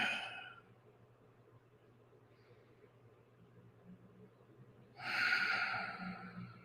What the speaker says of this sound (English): I will invite you to take a few deep breaths.